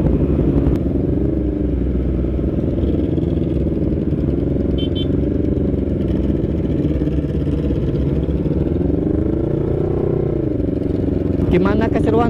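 Large sport motorcycles, including a Yamaha R1, rev and pull away at a Sunday morning ride gathering at a restaurant car park. A steady engine drone rises and falls in pitch for the whole stretch, with people talking over it.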